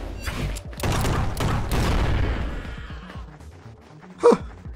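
Enemies blow up in Project Warlock, a retro-style shooter: a few heavy, booming blasts rumble in close succession and then fade, followed by a single sharp crack near the end.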